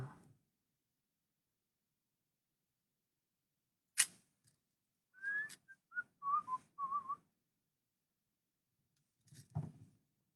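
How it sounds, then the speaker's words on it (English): A person whistles a few short melodic notes, up close and fairly soft, between clicks and quiet stretches. "I don't know what that song is that I was whistling."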